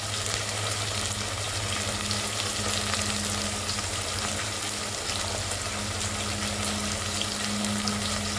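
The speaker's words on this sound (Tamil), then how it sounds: "ஒரு பதினஞ்சு பூண்டு போட்டுக்கலாம் பச்சை மிளகா காய்ந்த மிளகா ஒரு நாள் போட்டுக்கலாம்" Garlic with green and dried chillies frying in a pan, a steady, dense sizzle and crackle that runs without a break over a low hum, with no voices.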